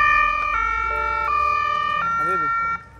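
Ambulance siren wails loud and close, its tone stepping between high and low pitches, arriving at the scene of a road accident over the rumble of traffic.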